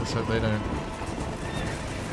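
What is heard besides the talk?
horses neighing in video game Red Dead Redemption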